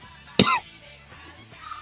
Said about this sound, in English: No, stop coughing.